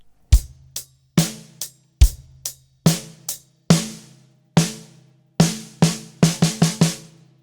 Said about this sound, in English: And I'll play the bar of groove beforehand.